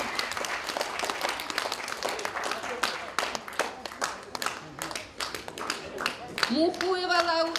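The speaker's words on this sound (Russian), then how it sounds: "эти люди заслуживают больших аплодисментов" Audience applause for district road and sanitation workers at a ceremony, with crisp, fairly close hand claps in a steady dense stream for several seconds and a voice rising over the clapping near the end.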